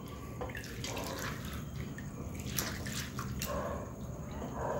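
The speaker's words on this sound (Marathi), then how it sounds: "असं करून आपल्याला ही डाळ धुवून घ्यायची आहे." Boiled lentils are rubbed and washed by hand in a pot of water for a medu vada recipe, giving soft continuous sloshing and splashing with a few sharper splashes, fairly quiet and close.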